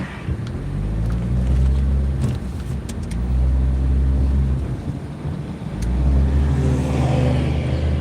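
Cars rush past one after another on a residential street in Millville, New Jersey, each swelling loud and close with a deep engine roar and then fading, with no talk over them.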